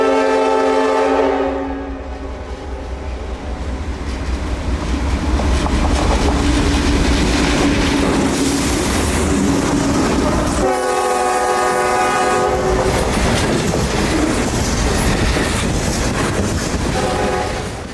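A CSX freight train led by CM40-8 locomotive 7799 rumbles past loudly and steadily, its horn sounding in bursts over the continuous rolling clatter of the cars.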